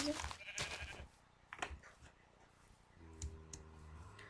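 Several short synthetic Minecraft sheep bleats, fairly close, with clicking sounds between them and a low steady background hum.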